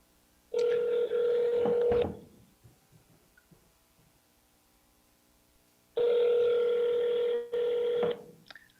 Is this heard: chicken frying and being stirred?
no